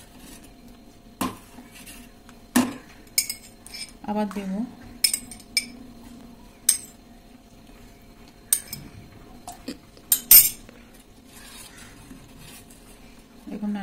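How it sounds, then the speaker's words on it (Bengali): A spoon scrapes and clinks against a pot while milk with a vinegar and water mix is stirred in for rosogolla, in irregular metallic knocks between quiet spells, and a voice speaks briefly. "দেখুন এবার নাড়াতে থাকবো"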